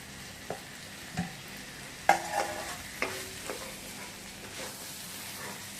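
Tomatoes and onions sautéing in a pan for a drumstick and tomato thokku, with a soft steady sizzle broken by several sharp spoon scrapes and taps against the pan.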